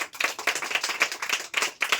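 A room of coaching-class students clapping together in a village setting, quick loud rhythmic claps in unison with brief gaps between bursts, close and alone without talk.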